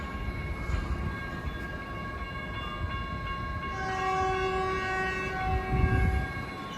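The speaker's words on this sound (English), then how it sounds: "this is Caltrain 313 on its way to San Francisco. This is a Statler EMU right now" A Caltrain 313 Stadler EMU electric train passes a Redwood City station platform, a steady loud rumble with sustained horn-like tones building toward the end.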